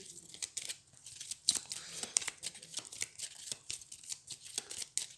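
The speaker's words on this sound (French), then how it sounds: "je vais pouvoir remélanger avec elle pour tirer 2 cartes en plus" Playing cards shuffled for the Shadowrun Crossfire Prime Runner Edition card game, heard as faint, close papery riffles and crisp card snaps in irregular bursts, with no talking.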